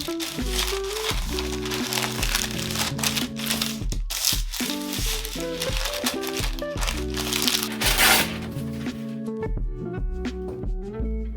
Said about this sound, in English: Now I'm gonna fold up the edges of the parchment